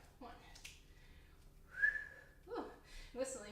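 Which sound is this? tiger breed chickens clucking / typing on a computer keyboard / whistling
whistling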